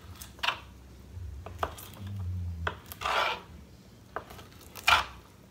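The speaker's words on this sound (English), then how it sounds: "I'm just gonna show y'all me cutting this one" A knife cuts through smoked sliced sausage on a grill, with a handful of separate scraping and chopping strokes and brief clanks spaced apart, close and fairly quiet, with no talking.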